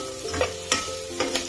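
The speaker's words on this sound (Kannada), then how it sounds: "ಈಗ ಇದು ಬೀನ್ಸ್ ಏನೋ ಕ್ಯಾರೆಟ್ 5 ನಿಮಿಷ ಫ್ರೈ ಮಾಡ್ಕೊಂಡಿದೀವಿ." Cut raw beans and carrots fry in a pan with a soft sizzle, punctuated by three quick stirring scrapes at a close distance, quiet and brief, with no talking.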